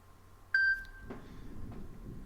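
A short electronic chime sounds as a participant joins a video meeting, a clear, bright tone lasting about half a second, followed by quiet room noise and faint rustling.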